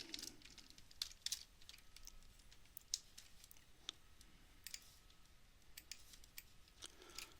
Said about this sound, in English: if I type it out like this